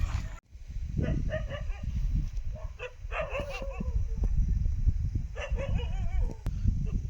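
Several dogs bark repeatedly at a distance on a cold, misty early morning in the countryside, with yips and whimpers mixed in over a steady outdoor background.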